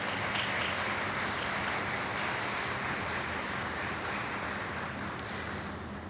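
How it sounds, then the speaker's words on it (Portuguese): Applause from the audience at a religious retreat testimony in Lamego, a continuous even wash of clapping that stays moderately quiet and a little distant throughout. "peço uma salva de palmas"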